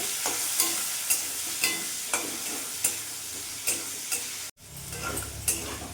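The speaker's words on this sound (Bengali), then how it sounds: "আলুটাকে লাল লাল করে ভেজে নেব" Continuous hissing sizzle of potatoes seasoned with salt and turmeric frying in oil until browned, punctuated by regular scraping stirs about every half second, close up and without talk.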